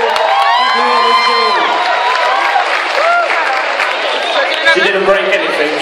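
Audience at a UK stand-up choreographers' showcase applauds and cheers loudly and steadily, with whoops and shouts, voices and some talk mixed into the continuous clapping.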